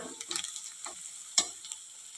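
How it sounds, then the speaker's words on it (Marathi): Onion, garlic and asafoetida being sautéed in a hot tempering for a bitter gourd dish: a spatula scrapes the pan in quick, irregular strokes, with one sharp metallic clink standing out near the end, close and clear. "हिंग घालून चांगलं परतून घेऊया"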